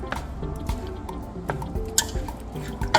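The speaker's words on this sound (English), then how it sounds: "I'm gonna turn it on and just stir everything together" Ingredients for Nigerian egusi melon soup being stirred together in a pot, giving soft wet squishing and a few clinks of the spoon against the pot in irregular strokes, close by with no voices.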